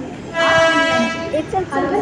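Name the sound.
local commuter train arriving at platform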